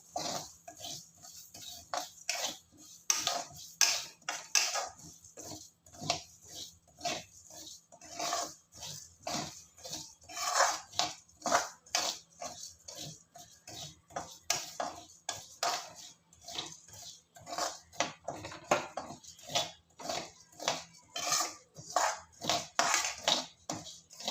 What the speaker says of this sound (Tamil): அந்த ஈரப்பசை போக வறுத்துக்கலாம்.